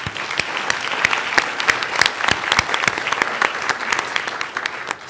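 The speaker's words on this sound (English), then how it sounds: "maybe we can give them a little round of applause" At a church convention session, an audience gives a lively round of applause for the staff, with many sharp claps crackling continuously and evenly across the hall.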